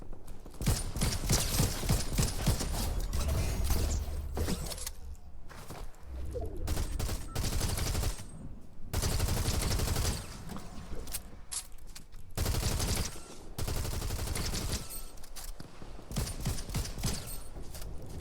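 Sustained rapid gunfire in Fortnite Reload comes in long dense automatic bursts, loud and near, separated by short pauses, with some faint game noise between them.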